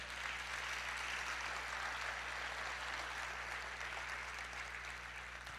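A church congregation breaks into steady, sustained applause, a dense even wash of many hands clapping at moderate distance over a low electrical hum, with no voices on top.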